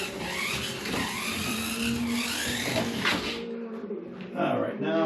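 A slot car with Pioneer Legend upgrades and no weights fitted, a JPS-liveried car, runs on a track, giving a steady whirring motor whine with some squeal that cuts off near the end, under a voice talking.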